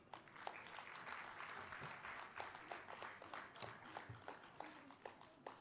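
Applause at a general convocation for the best performer award, a faint, distant crowd clapping steadily with sharper individual claps standing out over the wash.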